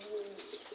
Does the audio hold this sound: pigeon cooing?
yes